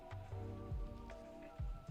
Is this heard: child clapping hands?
no